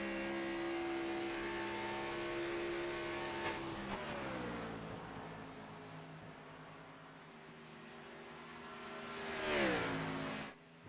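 Race cars circle the track during a live race, their engines droning steadily with sweeping pitch shifts as they brake and accelerate, and one louder pass swells up near the end before cutting off.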